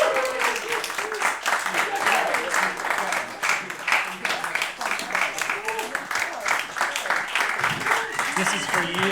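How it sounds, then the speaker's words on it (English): At an inspirational Londoners awards event, an audience applauds as two guests walk to the stage, a sustained burst of clapping mixed with crowd voices that rises and falls over about nine seconds. "Please give a big round of applause for Gary and Madeline as they come to the stage."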